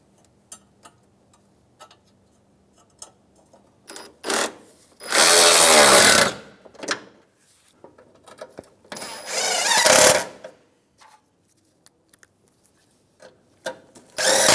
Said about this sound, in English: We're going to now put our 10mm bolt